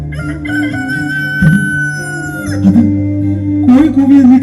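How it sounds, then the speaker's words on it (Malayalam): A rooster crows several times, loud and close, with a strong harmonic call, as part of a stage play set just before dawn. "കോഴി കൂവി എന്ന് കേട്ടില്ലേ?"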